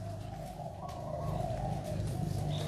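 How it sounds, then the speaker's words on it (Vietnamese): Pigeons coo in soft, low, throaty bursts that repeat steadily at moderate distance in a home garden, with no talking. "Mấy chim bồ câu đùng đùng hết hồn."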